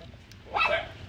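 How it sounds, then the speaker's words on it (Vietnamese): A frightened dog on a rural family property in Vĩnh Thuận, Kiên Giang, Vietnam gives a single short, fairly close bark or yelp over low background noise. "Chó đó nó sợ vậy, nó chạy nhảy xuống dưới lệ luôn nè."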